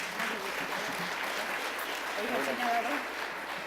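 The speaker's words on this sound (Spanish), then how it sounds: "Un fuerte aplauso, por favor." Audience applause at a February 2018 pediatrics session on respiratory infections, a steady, fairly faint wash of clapping that runs the whole stretch without a break.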